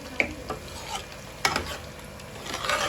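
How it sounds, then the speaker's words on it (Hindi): Stirring onion and garlic tempering in a pan with a soft sizzle underneath, a few sharp scrapes and clinks of a spoon against the pan, no voices. "तो अब इसको हम अच्छी तरह से मिक्स करते हैं"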